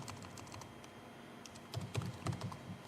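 Keys clatter quietly on a computer keyboard as a short command is typed, a close, rapid series of soft taps that speeds up toward the end, with no talk.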